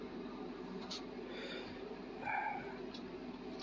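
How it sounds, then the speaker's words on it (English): Pet dog named Shadow barking from a room downstairs, heard faint and distant as a short muffled burst under a steady background hum. "So yeah, that's my dog coming from downstairs."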